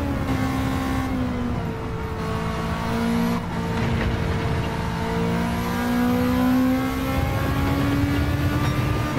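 A small Toyota race car in Gran Turismo 7 holds a steady, loud engine drone. Its pitch climbs and settles through gear changes as it laps the track, with no talk over it.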